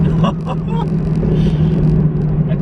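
A Chevrolet C5 Corvette engine revving on a downshift to third gear, a loud, close, deep rumbling drone that holds steady throughout with no speech.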